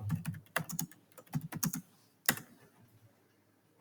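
Quick bursts of clicking keystrokes on a computer keyboard, several rapid taps, a pause, then one sharp press and a few faint taps, fairly quiet and close.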